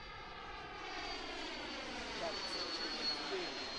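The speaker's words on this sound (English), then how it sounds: "Wait for the flyby." A radio-controlled model airplane with retracted gear makes a flyby, its engine a steady, fairly faint whine that swells gently toward the end and holds throughout without a clear pass-by peak.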